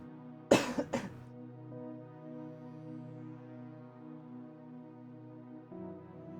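A single sharp cough bursts out near the start, followed quickly by a second, softer cough, then a low steady tone carries on underneath with no talk.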